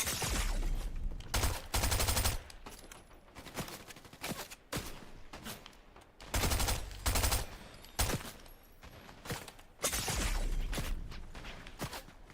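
Bursts of SMG gunfire in the video game Fortnite, Reload Zero Build mode, loud rapid volleys repeating in several strings with short pauses between, set against scattered game sounds.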